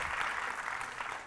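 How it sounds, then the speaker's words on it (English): Audience applause for a team at a tech conference talk, a steady dense patter of clapping held at even strength for just over a second. "Give Team A a round of applause."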